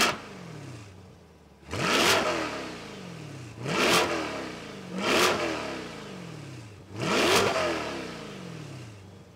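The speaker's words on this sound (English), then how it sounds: "When you put the pedal down and you hear this motor start purring" A Chevrolet C8 Corvette's mid-engine V8 revs hard four times in a row, each sharp blip rising then falling back to a lower burble between.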